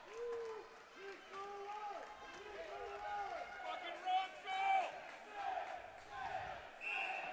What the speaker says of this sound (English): the Danbury crowd coming alive, trying to will Nikola Levesque to success